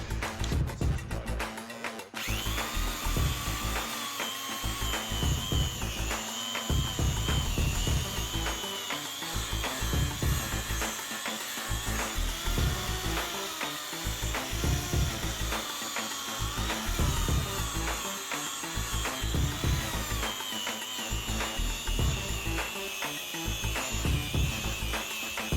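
A power polisher fitted with a wool pad buffs a motorbike alloy wheel on a Victory Vegas, giving a steady, loud whirring drone with a faint high whine and small rhythmic dips in level throughout, with no talking.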